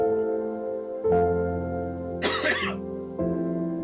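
A single harsh cough from a man with the flu breaks through a steady background hum, followed by a brief throat sound; no speech.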